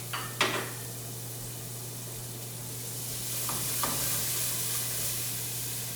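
Shallots sweat in a pan for a shrimp dish, a steady low sizzle running throughout with a couple of faint utensil clinks and scrapes near the start and middle.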